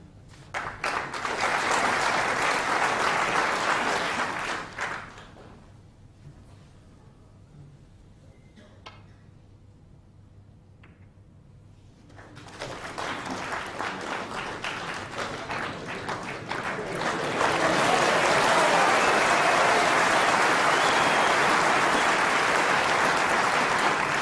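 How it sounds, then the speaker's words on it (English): Snooker audience at the Crucible applauding in two swells, a dense burst of clapping that fades to near silence, then returns and builds louder and fuller to the end. "A lot of applause from our audience here"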